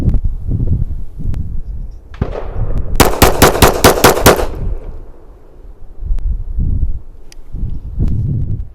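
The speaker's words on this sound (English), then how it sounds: "We're going to try some rapid fire on these jacketed soft points now." A .45 ACP 1911 pistol firing jacketed soft-point rounds at a 10-yard range, with roughly eight loud, rapid shots in one tight burst mid-clip and a low rumbling background before and after.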